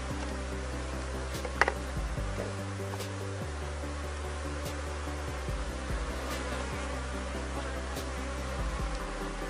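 Honeybees buzzing steadily around an apiary hive during a colony split, a dense continuous drone with low tonal hum shifting beneath and occasional sharper ticks, no voices.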